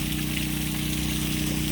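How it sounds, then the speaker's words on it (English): Water runs down a newly built waterfall into a one-acre vineyard pond in Turner, Oregon, making a steady, continuous rushing splash over a low pump-like hum, with no talk. "we finally got some water running on our waterfall that we're building"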